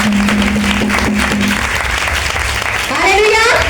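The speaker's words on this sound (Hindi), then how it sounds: "जोरदार तालियां यीशु मसीह के लिए।" Loud clapping from a church congregation during a Christmas service, with voices and someone speaking mixed in and a tonal hum underneath, the clapping dense throughout.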